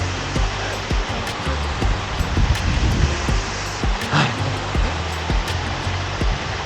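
A waterfall pours into a natural pool on a mountain route in the Sierra de Gredos and Jerte Valley, a steady rushing wash of water with wind buffeting the microphone and occasional bumps.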